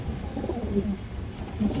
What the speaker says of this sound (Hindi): एक और कबूतर है, वो भी छोड़ रहे हैं अंदर